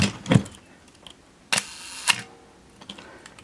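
A Pentax MX 35mm film SLR with a 50mm f/2 prime lens, stopped down to f/22, fires its shutter at 1/2 second: a sharp mechanical opening click, a brief pause, then the closing snap, close and clear, with small handling ticks around it.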